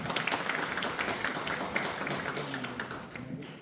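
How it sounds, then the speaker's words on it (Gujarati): Audience applause welcoming Dr. Sanket Makwana to the stage at a Sava Aayush Hospital gathering of general practitioners, a dense, steady patter of many hands clapping throughout at moderate level, with faint voices underneath. "તો ચાલો જોરદાર તાળીઓ સાથે સ્વાગત કરીએ ડોક્ટર સંકેત મકવાણા સરનો"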